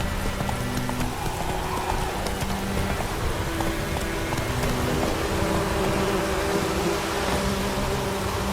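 Horse hooves gallop in The Witcher 3: Wild Hunt, a steady, fast clip-clop that is close and loud from start to finish over a constant bed of game ambience.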